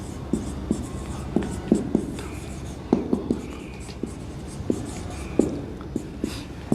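A pen taps and scratches on paper in short irregular strokes, close and distinct, while someone speaks softly throughout. The setting is an accounting lesson.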